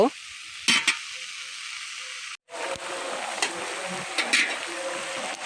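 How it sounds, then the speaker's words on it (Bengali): Bitter gourd fries with salt and turmeric in a large pot for a big family meal in a village kitchen. A close, steady sizzle is broken by a brief silence and a few stirring scrapes and clatters. "এখন দেখেন করলা ভাজি দিছি, আর এখন আমি মশলা দিয়ে দিচ্ছি"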